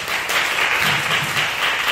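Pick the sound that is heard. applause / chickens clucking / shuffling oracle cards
applause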